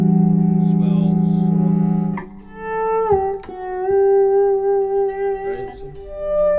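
Sustained electric guitar notes swell in and fade with soft attacks shaped by a volume pedal, smooth and resonant, one tone gliding into the next.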